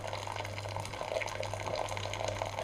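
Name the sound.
filling a samovar with water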